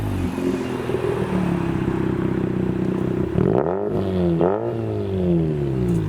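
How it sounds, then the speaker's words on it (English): Rotary-engined car leaving a Japanese car show, a loud steady buzzing idle that breaks into two sharp revs rising and falling in pitch, close by with crowd and other traffic faintly behind. "Someone was revving and it didn't sound like an RX-8. Oh no, that is a rotary."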